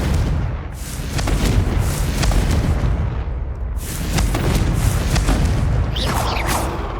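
Confringo blasting spell explosions in Hogwarts Legacy: loud, booming blasts in two bursts, each with a sharp crack and rolling roar, followed by crackling debris and a brighter zinging tail near the end.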